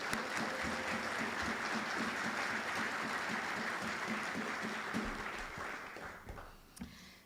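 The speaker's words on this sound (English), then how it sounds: "Let's give them a round of applause." Round of applause from an audience at a military community event, steady dense clapping that holds for several seconds and then thins out and fades near the end.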